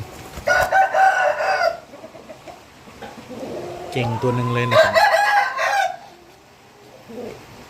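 A rooster crows loudly nearby, its stepped, harmonic call rising and holding for about two seconds, with someone talking before and after.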